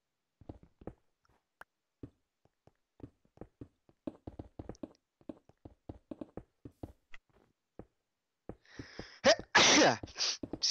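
A sharp, close sneeze bursts out near the end, after a run of quiet, scattered taps and clicks.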